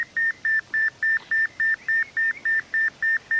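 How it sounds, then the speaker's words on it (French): A pager emits a rapid series of about a dozen evenly spaced, high electronic beeps, steady and fairly loud, with no voices over them. "Ça, c'est mon bip-bip."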